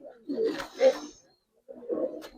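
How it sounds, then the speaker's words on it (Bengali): Giribaz pigeon cooing in two soft, throaty bursts close by, a short silence, then one more low coo. "এই ছাড়লাম কবুতরটা দেখেন"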